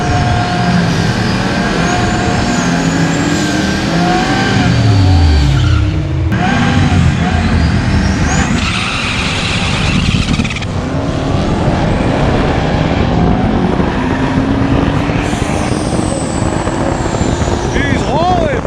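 A 10-second drag race car launches and hauls down the strip in a loud, sustained engine roar with rising tones, while people talk excitedly over it.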